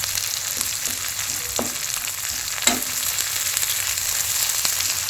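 Onions frying in a pan for a village-style small fish dish with green tomato and potato, a loud, steady sizzle with a few sharp clinks of a spatula against the pan.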